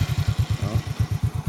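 A motorcycle engine idles close by with a steady, fast, even thump of pulses, loud and alone without any talk.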